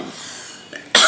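A woman with a sore throat gives a single sudden, loud cough at the end after a quiet stretch, close by and with no talking.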